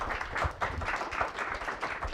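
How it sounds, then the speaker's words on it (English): Applause from an audience at an AI workshop after a professor's talk, a steady, moderately faint patter of many hands clapping that continues evenly throughout. "think Professor Moutani deserves a round of applause"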